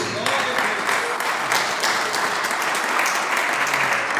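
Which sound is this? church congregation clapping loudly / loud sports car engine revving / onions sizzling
church congregation clapping loudly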